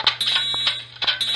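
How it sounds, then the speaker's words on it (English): School fire alarm sounding during a test, a loud electronic buzzing tone pulsing in rapid repeated bursts, close and steady with no voices. "School fire alarm."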